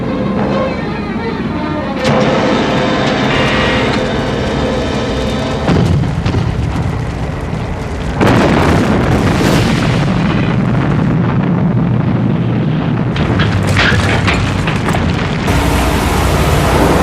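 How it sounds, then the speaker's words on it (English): Continuous heavy gunfire and booming explosions from a Thunderbirds episode set in New York City, a loud dense barrage with abrupt bursts and cuts as the shelling intensifies, with no voices over it. "Good shooting, Virgil."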